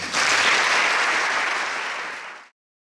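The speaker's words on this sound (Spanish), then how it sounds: "un aplauso y un gran abrazo." An audience claps in a dense, even burst at a tribute event, lasting about two seconds before cutting off abruptly.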